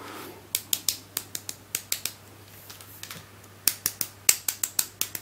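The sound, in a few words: tapping plastic speedcube pieces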